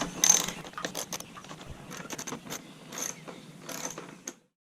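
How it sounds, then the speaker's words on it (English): Close ratchet clicking from a ratchet with an 8mm socket backing out the seat bolts on a Kawasaki KLX300 motorcycle, in short rapid bursts with brief pauses and no talking. "I'm using an 8mm socket to remove these seat bolts."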